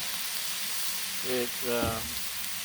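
Country-style ribs and vegetables sizzling and steaming under a dome on a Blackstone griddle, a steady soft hiss with a voice talking briefly over it.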